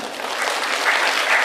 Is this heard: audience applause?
yes